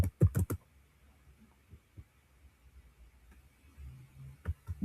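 Keys tapped on a computer keyboard: a quick burst of close clicks, then sparse, faint taps and a few more clicks at the end.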